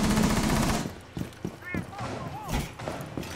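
Bursts of rapid gunfire from a game, loud at first then in scattered short volleys, with brief electronic chirps mixed in.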